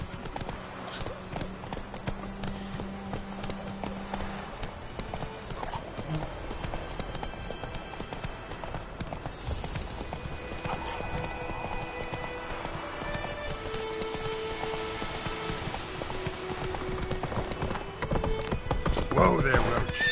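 Geralt's horse Roach trotting in The Witcher, a steady rhythmic clip-clop of hooves running throughout with game music and faint voices underneath, growing louder toward the end.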